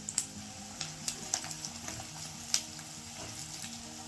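Garlic, curry leaves, dried red chillies, onion and green chilli fry in hot oil, giving a quiet, steady sizzle broken by sharp spitting pops and stirring scrapes, with a faint tonal hum in the background.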